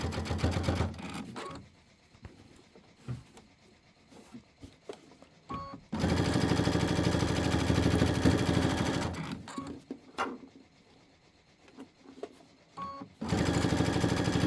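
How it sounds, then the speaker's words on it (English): A sewing machine runs hard while stitching the side seam of a quilt, loud and close in two long steady runs with a shorter one at the end, and quiet clicks and handling noises in the pauses between. "We're going to sew this whole side."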